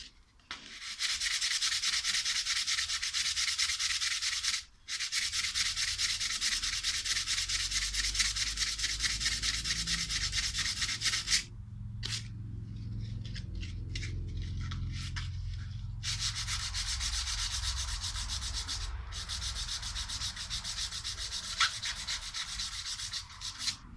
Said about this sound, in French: Donc après un petit coup de ponçage.